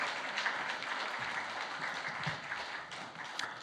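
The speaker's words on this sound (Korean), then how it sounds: "이 시간에 목사님 맞이할 때 환영의 박수" Congregation applauding to welcome the pastor at a Sunday afternoon praise service in a church; steady, moderately faint clapping from many hands runs throughout, with no voices standing out.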